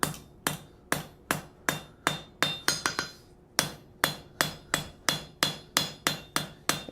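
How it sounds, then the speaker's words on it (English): Planishing hammer blows on a metal forging as it is cleaned up, with sharp, bright, ringing strikes at a steady pace, briefly quickening into a cluster, close and loud, with no voices. "Clean up our forging a little bit. Some planishing blows."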